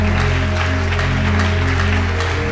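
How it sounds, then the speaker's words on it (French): A church congregation applauds loudly for the Lord, with dense, continuous clapping that stays loud throughout over steady music. "Acclame très fort pour le Seigneur"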